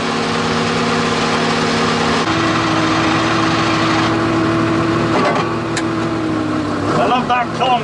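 Inside an MG Metro 6R4 rally car on the Goodwood rally stage, the engine idles steadily with a droning hum, then shifts pitch as a gear engages with a clunk, followed by some rattling and faint voices.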